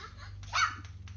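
A single short, sharp sneeze bursts out at mid-range over a steady low background hum, during a tabletop Curse of Strahd roleplaying session.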